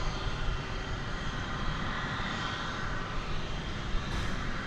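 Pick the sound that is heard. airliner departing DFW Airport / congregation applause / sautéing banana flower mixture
airliner departing DFW Airport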